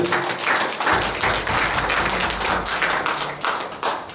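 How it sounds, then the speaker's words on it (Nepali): A church congregation claps hands in welcome, a loud, steady roar of many hands with uneven thumps, sustained throughout. "हामी यो सबैजनालाई मैले जति नामले ताली बजाएर स्वागत गरौँ है"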